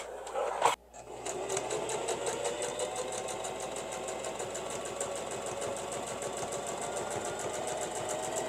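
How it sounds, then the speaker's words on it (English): A sewing machine runs a zigzag stitch on an elastic waistband made from linen bedsheet fabric, starting after a brief thump and then holding a fast, even mechanical chatter close by. "we're just going to sew all the way around with a zigzag stitch that allows for stretch"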